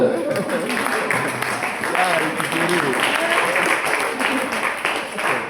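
A church congregation applauds in a steady, dense wash of clapping and cheering that carries on throughout, with voices mixed in.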